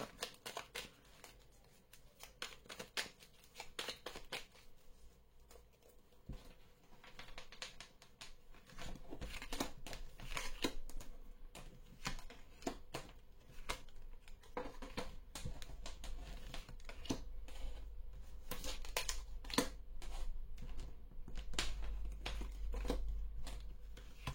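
Tarot cards are shuffled, drawn and laid out by hand in a quiet room, giving a long run of soft, irregular card slaps, flicks and papery rustles at close range.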